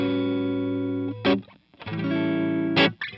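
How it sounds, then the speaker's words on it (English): Electric guitar playing a blues in A through effects, with a distorted, chorused tone: sustained chords ring out, break off briefly around the middle, then resume with sharp strummed accents, loud and close with no talking. "So I'm playing a blues in A."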